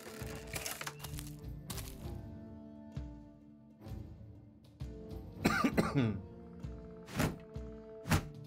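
Several coughs and throat clearings from a man recovering from a cold break through the steady tones and thumps of the game Battle Brothers, with a sharper cluster of coughs near the middle and end.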